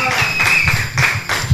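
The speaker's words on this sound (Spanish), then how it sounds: "aplauso, muchachos, por favor." Audience clapping at a band performance, short rhythmic bursts of hands under loud overlapping voices.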